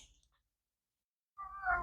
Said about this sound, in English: I have a cat emergency here. She's stuck in the screens.